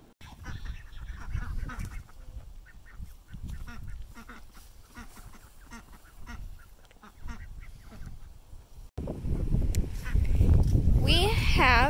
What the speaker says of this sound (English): We have 9 ducks.